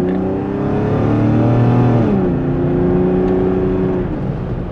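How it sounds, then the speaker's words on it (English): A 180-horsepower BMW 525i E34 Touring wagon engine pulls under full throttle from inside the cabin, a steady rising drone that climbs in pitch, shifts once to a lower note, then keeps building, loud and continuous with no talk. "So now push that gas pedal really far down."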